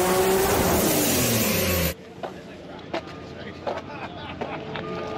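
A Pontiac's LS1 V8 roars loudly and close for about two seconds as the pitch climbs, then cuts off, leaving quieter background sounds with a few faint clicks.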